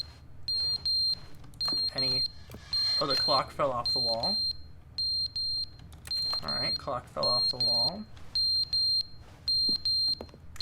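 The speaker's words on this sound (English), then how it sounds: "we've been in here so long, the fire alarm ran out of batteries" Repeated high-pitched electronic alarm beeps in a steady pulsing pattern from a fire alarm with a dead battery in The Stanley Parable, sounding on and off while someone talks over it.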